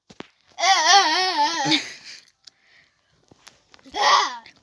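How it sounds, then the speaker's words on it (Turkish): A young sibling cries loudly and close by in a wavering, sobbing wail, breaks off, then lets out a second shorter wailing burst after a quiet pause. "Arkadaşlar bakın ne güzel ağlıyor."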